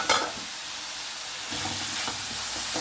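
Onions sautéing in a pan for tomato thoran, a close, steady sizzle and hiss with a brief stirring scrape at the start and the frying swelling slightly louder midway.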